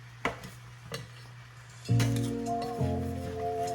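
A utensil clinks gently against a pan while food is stirred with no oil, giving a few sharp taps followed by a soft, steady sizzling hum.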